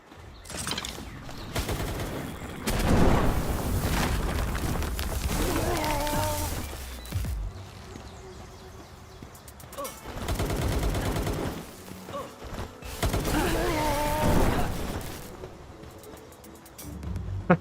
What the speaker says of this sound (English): Those rocket launchers hurt.